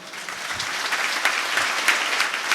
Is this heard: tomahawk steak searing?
no